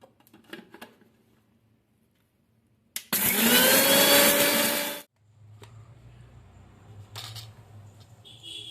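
A mixer grinder jar pulverizes roasted spices and chillies into powder in one loud, roaring two-second whir, set between quieter clinks and handling noises before and after.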